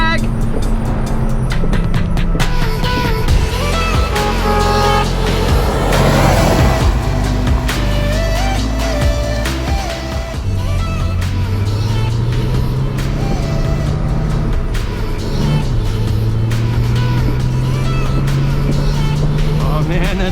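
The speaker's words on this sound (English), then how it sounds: "I am driving a frickin' Jag!" A manual-swapped, triple-carburetor Jaguar XJ6 Series 1 engine drones steadily from inside the moving car, its pitch climbing and falling through the gears, with people talking over it.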